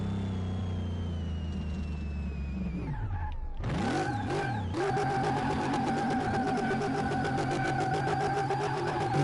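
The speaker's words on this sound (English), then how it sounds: "if you hear that engine, that's just basically a supercharger" Supercharged car engine in the Car Mechanic video game, revving with a sustained whine, dipping briefly and then climbing back to a loud, steady high-rev roar with supercharger whine on top.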